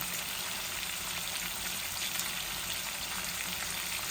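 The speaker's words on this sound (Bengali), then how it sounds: "আমি এই ফ্রাই প্যানের মাঝে মাছগুলা বসাই দিব আমার মাছগুলা ভাজা হয়ে যাক" Pangas fish pieces sizzle and spatter steadily in hot oil in a frying pan, a constant crackling hiss with no talking.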